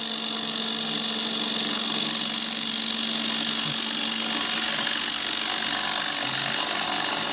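A bowl gouge cuts a pass on a wood lathe, giving a continuous, loud, even hiss and rasp of wood shavings over the lathe's steady hum, with no speech.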